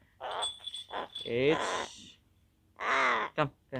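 Pet crow cawing in a series of harsh, raspy calls, a few in a row with short gaps, then another burst and two brief clipped calls, fairly close and loud.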